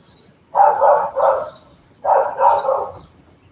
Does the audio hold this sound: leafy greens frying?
no